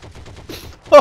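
Rapid gunfire in the Heroes and Generals shooter game, a quick train of small muffled shots ending in a louder close burst within about a second.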